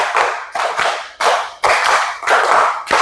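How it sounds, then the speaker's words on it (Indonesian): Close, loud rhythmic hand clapping from a class clap game: a pattern of five claps played twice, quick crisp bursts with short gaps between groups and no voices. "tepuk 5 2 kali"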